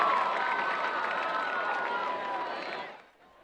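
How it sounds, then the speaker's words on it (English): Crowd noise fills the stands at a 2018 high school homecoming football game between Independence and Frontier: a loud, steady wash of cheering and clapping that drops away abruptly near the end. "a big round of applause to our activities director, Ms. Tara Horton, for all of her hard work"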